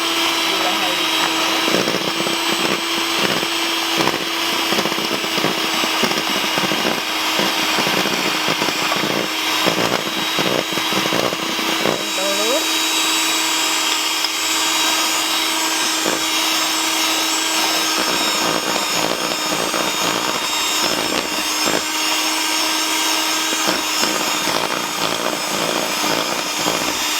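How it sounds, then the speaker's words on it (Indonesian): An electric hand mixer whirs steadily on low speed, beating butter and powdered sugar for cookie dough; a constant motor hum with some rattling runs throughout, and a voice talks over parts of it. "Kocok dulu menggunakan kecepatan rendah saja dulu supaya semuanya tercampur rata antara butter dan gula halusnya."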